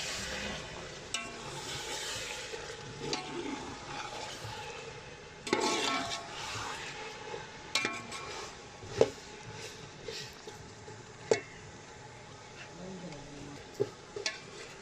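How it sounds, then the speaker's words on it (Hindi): Spoon stirring aloo matar pulao with potatoes and peas in a pot: soft scraping and shuffling, a faint sizzle, and several sharp metallic clinks against the pot toward the end. "तो ऐसा से चम्मच हिला रहे हैं।"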